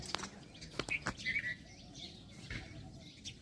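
Small birds chirp in a few quick, bright bursts in the background, while a soft voice murmurs nearby.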